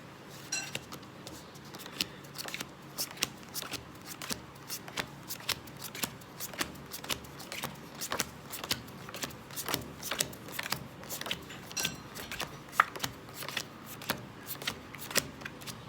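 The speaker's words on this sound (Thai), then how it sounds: "เสร็จแล้วทีนี้เราก็แจกไพ่เป็นสามกองนะครับ" Playing cards are dealt one at a time into three piles for a card trick, a long run of crisp, regular flicks and slaps close by, with no voices.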